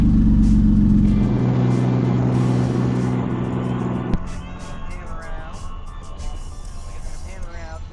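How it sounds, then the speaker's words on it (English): A car heard from inside as it drives on the road, loud engine rumble that eases off, with a voice talking over the steady road noise. "Let's go drive around some more."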